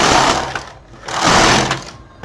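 A domestic knitting machine carriage sweeps across the needle bed twice, selecting from the second needle, each pass a loud mechanical whirring rush that rises and fades, with a brief pause between the two rows.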